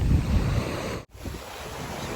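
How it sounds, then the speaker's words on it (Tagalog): Strong surf breaks on a beach with continuous wind buffeting the microphone. The rush of waves is loudest at the start, followed by a brief dropout and then steady washing and wind. No one speaks. "Lakas yung alon."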